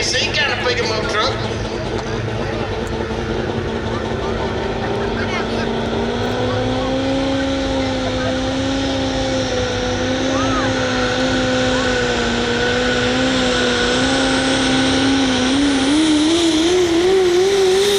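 A super stock diesel 4x4 pickup truck drag racing at a White Plains, Georgia strip, its engine droning loud and steady before climbing in pitch near the end, with an announcer talking over it.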